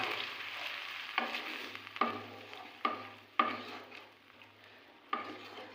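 Turmeric spice paste sizzles and fries in a pan after a splash of water, a steady close crackle broken by several sharp stirring scrapes spaced through the clip, with a low hum beneath and no talking.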